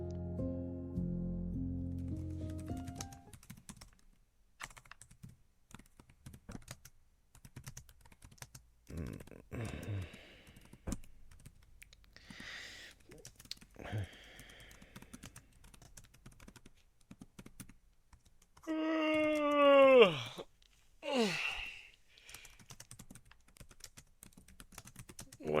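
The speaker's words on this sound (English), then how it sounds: "What are you typing?" Keys tap on a computer keyboard in scattered, irregular bursts, quiet and close, with pauses between clusters of strokes and a few brief unrelated sounds.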